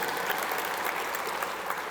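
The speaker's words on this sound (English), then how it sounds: "You can clap for Focus and Learn Days." An audience at the SLCC convocation claps in a steady, dense wash of applause that holds evenly for the whole stretch, with no voices over it.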